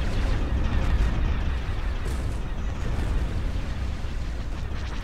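Ship weapons fire in Star Wars: Empire at War – Forces of Corruption, a continuous rumbling barrage of booming space-battle blasts at steady loudness, without speech.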